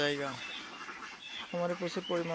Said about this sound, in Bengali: এই খামারে যে সকল হাঁস আছে, সকল হাঁস ডিম দেয়